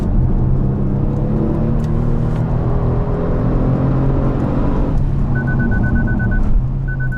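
A Kia Stinger GT's engine drones steadily and loudly from inside the car on a race circuit, a continuous close hum with shifting tonal layers and a faint electronic beep near the end.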